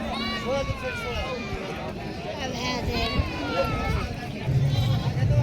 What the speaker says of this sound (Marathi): तर मित्रांनो या ठिकाणी पाहू शकता गावरान शेळी मित्रांनो.